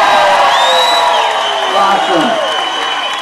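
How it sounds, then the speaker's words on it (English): A crowd at a night-of-worship event shouts, whoops and claps continuously and loudly for about three seconds, with a voice speaking over the cheering. "Shout and clap a little bit."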